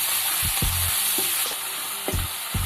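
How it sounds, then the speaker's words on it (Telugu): Crushed onions fry in hot oil for a gravy, a bright continuous sizzle under several loud scraping stirs and clanks of a ladle against the pan, close up and without speech. "దంచి పెట్టుకున్న ఉల్లిపాయలు కూడా వేసి ఎర్రగా వేగనిద్దామండి."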